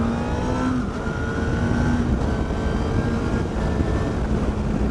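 Honda CBR1000RR Fireblade four-cylinder engine held at high revs around 7,000 RPM, a loud continuous droning roar heard close, with wind noise and no talk.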